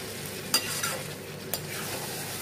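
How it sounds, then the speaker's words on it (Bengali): Mutton curry sautéing with masala in a pan, heard as a steady close sizzle broken by a few sharp spatula scrapes and knocks, with no talking. "এবার এটাকে ভালো করে কষাতে থাকবো মশলাটা দিয়ে"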